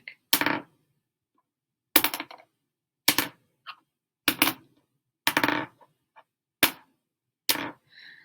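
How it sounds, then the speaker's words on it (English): A pen and a chapstick dropped in turn onto a hard surface, seven sharp, clattering impacts with brief rattling bounces, spaced about a second apart, close and alone. "If I drop the pen again, do you hear the difference? Pen, chapstick."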